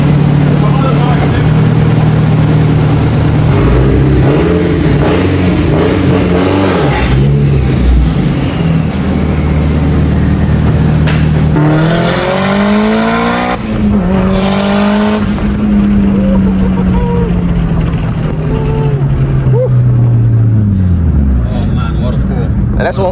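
A Mitsubishi Evo 9 with an upgraded turbo on flex fuel, running low boost, pulls hard on a test drive. The engine note rises loud and close through the gears, with an audible shift and a long climbing rev.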